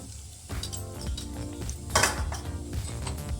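Mustard and cumin seeds crackle and sizzle in hot oil in a pan, mixed with clinks of a spoon against the pan, close and fairly quiet.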